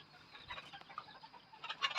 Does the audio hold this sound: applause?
no